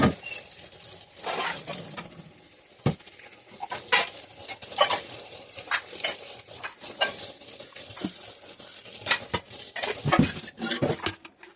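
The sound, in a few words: washing dishes and pots by hand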